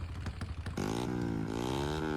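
A car engine in the GTA San Andreas sound mod sits at a clattering idle, then revs up hard into a steady, loud high-rpm drone with rising harmonics, heard alone.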